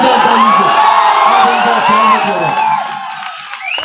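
A political rally crowd cheers and whoops loudly with clapping mixed in. The roar holds strong, then fades toward the end, with a voice rising over the noise.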